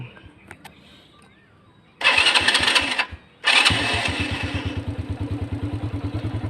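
A 110cc Thai motorcycle fires up on a single start after a brief cranking burst, then settles into a steady, close, rhythmic idle with a puttering beat.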